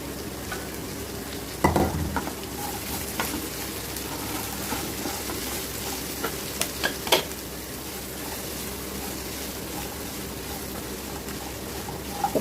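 Pieces of snake gourd sizzle and fry steadily in a pan for a South Indian curry, with occasional scrapes and knocks of the stirring spoon against the metal.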